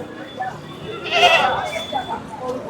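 A goat bleats once, loud and close, at a busy goat market in Ranipet, with murmuring crowd chatter and market noise around it.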